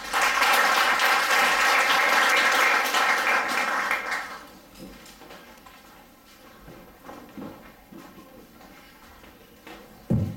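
Audience applause for a singer about to perform: a loud, full burst of clapping for about four seconds, then fading to scattered claps and a quiet room.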